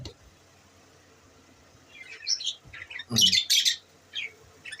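Pet birds kept in pairs, one sitting on eggs, give short, sharp chirps and squawks in scattered bursts, close and fairly clear over a quiet background.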